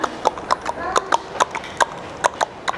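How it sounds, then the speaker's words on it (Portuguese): Horse hooves clip-clop in a steady, evenly spaced walking rhythm, close and crisp, with a dozen or so distinct hoof strikes and voices murmuring faintly underneath during a stage play. "De repente, ele ouviu passos de cavalo"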